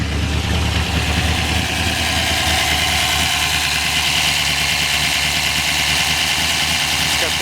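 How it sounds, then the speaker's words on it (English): Ford Pinto V8 engine idling with a lopey, uneven rhythm and a solid lifter tick, a loud steady close rumble throughout, with a person talking over it. "It does have a lopey idle on it"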